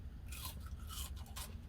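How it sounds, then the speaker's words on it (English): A few crisp crunches from biting into fast food French fries, heard close up as short bursts with faint chewing between them. "Heard that crunch?"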